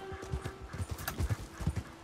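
Horse hooves clip-clopping in the video game Red Dead Online, a quick, steady run of hoofbeats near and clear, with occasional faint snorts in the background.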